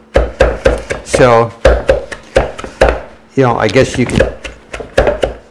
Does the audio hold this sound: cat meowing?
no